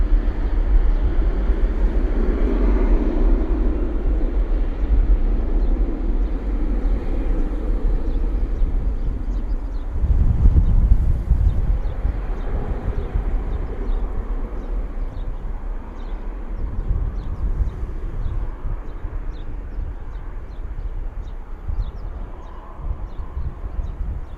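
A Jet2 Boeing 737 departs Bristol Airport and climbs into low cloud, its jet engines a distant, steady rumbling roar that swells briefly before slowly fading, with no talking.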